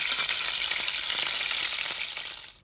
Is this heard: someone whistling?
no